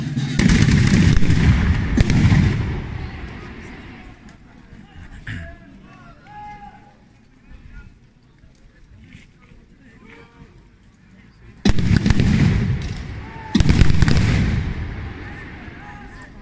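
Musket volleys and cannon fire boom at a Battle of Austerlitz reenactment on Place d'Austerlitz in Ajaccio, loud rolling blasts at the start and again near the end, with quieter gaps between where a crowd murmurs and animals can be heard.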